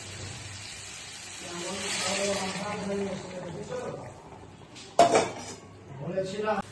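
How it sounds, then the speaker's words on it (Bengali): Hot water goes into a pan of frying egg and potato curry, giving a soft rising hiss and sizzle, then a sharp metallic clatter of a utensil, while someone talks throughout. "এবার দিয়ে দেবো আমি গরম জলটা"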